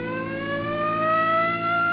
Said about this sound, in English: hit your siren